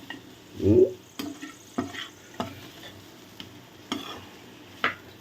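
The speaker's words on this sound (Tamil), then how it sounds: "இப்போ நல்லா கொஞ்சம் ஒரு ரெண்டு மூணு முறை கிளறி அப்படியே இறக்க வேண்டியதும் ரத்த பொரியல் ரெடி ஆகிடும்" Spatula stirring blood fry (ratha poriyal) in a frying pan, with soft scraping strokes and light taps against the pan at irregular intervals, one fuller stir early on, close and fairly quiet.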